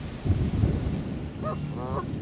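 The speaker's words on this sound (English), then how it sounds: "Some geese." Geese honk at a lake, two short calls that sound moderately distant over a low outdoor rumble.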